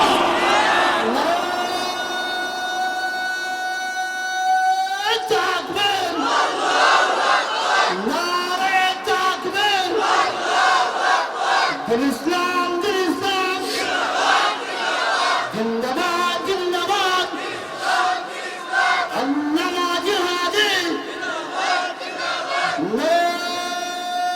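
A large crowd at an Islamic religious gathering chants the Allahu Akbar slogan in loud, bellowing unison. The voiced phrases repeat in waves with short breaks between them.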